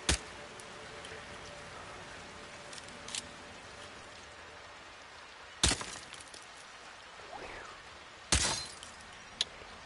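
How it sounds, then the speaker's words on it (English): Glass shattering in Hitman 3, two sharp bright crashes several seconds apart with brief tinkling debris, over a quiet game ambience with faint scattered clicks. "I love the sound of glass breaking."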